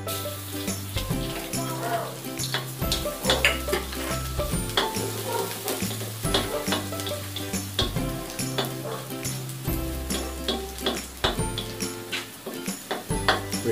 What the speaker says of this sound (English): Then we'll start to saute our garlic.